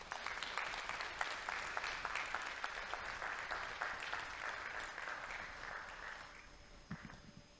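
Audience at a public talk on climate change and Pennsylvania forests breaks into applause, a dense even patter of many hands clapping that holds steady, then fades toward the end.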